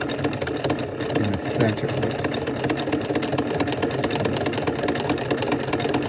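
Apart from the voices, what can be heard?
sewing machine stitching rope cup and saucer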